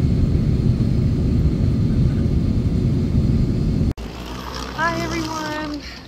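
An aircraft engine roars loud and steady beside the cabin after landing in Tokyo, then cuts abruptly to a quieter hum as people talk nearby.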